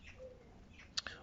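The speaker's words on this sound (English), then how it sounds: "you can hear the local wildlife chirping away in the background there to entertain us" Faint outdoor birdsong in the distance: a quiet background hum with two sharp, brief chirps near the end, soft and far off.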